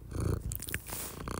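A cat purring up close, a steady low rumble running through the whole short moment, with a few light rustles over it and no voices.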